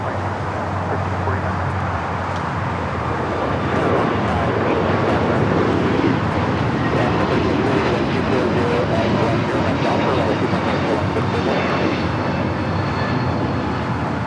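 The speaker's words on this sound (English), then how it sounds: "Delta A321 Neo next takeoff here on the south side." A Delta Airlines Airbus A321neo takes off from the south side runways at Los Angeles International Airport, its engines giving a steady, loud broadband roar that holds throughout, with faint talk and outdoor noise mixed in.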